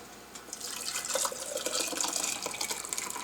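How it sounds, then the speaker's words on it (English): Pork carnitas chunks and broth poured into a jar, a continuous splashing, gurgling liquid pour at close range for a few seconds. "I wanted to just pour the chunks in."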